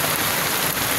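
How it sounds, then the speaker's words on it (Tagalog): Dense, loud rain pouring steadily onto a hard surface in Manila, a constant heavy wash with no other sounds. "Lakas ng ulan."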